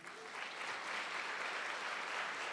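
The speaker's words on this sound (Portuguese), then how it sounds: "aplauda ao Senhor mais uma vez" A church congregation applauds together in a steady wash of clapping that stays even and moderately distant, with no speech over it.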